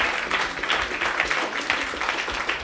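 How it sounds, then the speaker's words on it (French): Close, lively audience applause follows a speech by a woman business leader, with many hands clapping in a fluctuating, full burst. "On peut l'applaudir."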